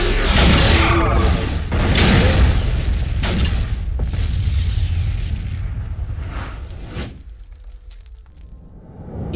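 A loud, booming explosion from a detonated decoy data node in a Star Trek video game, with a heavy initial blast followed by repeated rumbling bursts that slowly fade out.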